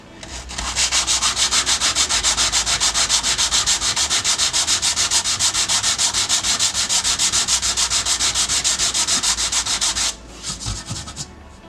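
Steady back-and-forth hand sanding of a B18 valve cover with 320 grit paper on a block, loud and close, continuous rhythmic strokes for about ten seconds before easing to a few lighter rubs.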